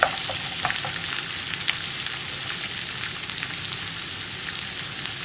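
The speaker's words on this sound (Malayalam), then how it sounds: "ഇനി നന്നായിട്ടൊന്ന് വഴറ്റിയെടുക്കുക" Sliced onions sauté in a hot pan with salt for an onion curry, giving a loud, steady close-up sizzle with scattered stirring scrapes throughout and no talking.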